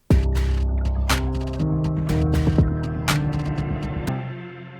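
Piano chords and single notes from an industrial metalcore production play in a slow, rhythmic pattern with sharp percussive hits, layered with atmospheric textures, loud and full.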